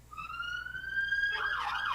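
An emergency vehicle siren, police car or ambulance, passes outside during a live online chat, a rising wail then a harsher warbling burst, moderately loud over steady background hum with no talk.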